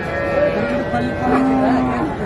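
A native-breed cow moos in a drawn-out, low call at a cattle market in Mattrapalli, close by, with faint background noise around it.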